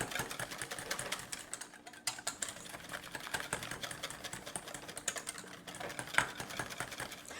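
Egg whites are beaten in a bowl with quick, dense, rhythmic clicking and tapping that runs without a break, close and fairly even in loudness.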